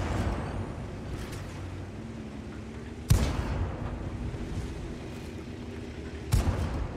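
Artillery shots in a tank video game skirmish, two sharp booms about three seconds apart over a steady engine rumble, no talk heard.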